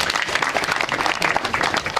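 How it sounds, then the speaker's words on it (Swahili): Steady applause from an audience at a Makueni youth dialogue event, dense continuous clapping filling the room throughout, fairly loud and close, with no voices standing out. "Makofi tena."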